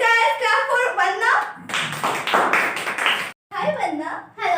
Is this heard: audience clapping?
yes